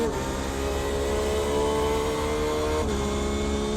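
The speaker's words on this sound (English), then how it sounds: "LMP2 coming through the field." LMP2 prototype race car in a racing video game at Spa, a steady loud engine drone with harmonic whine that sustains and shifts pitch slightly as it passes through the field, with no talk.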